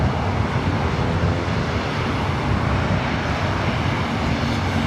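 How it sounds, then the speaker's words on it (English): A Lufthansa Boeing 747 starting its takeoff on runway 25 left at LAX, a steady broadband jet engine roar heard from a distance, continuous and even throughout with no voices. "the Lufthansa Queen just about to take off there on the south side at 25 left"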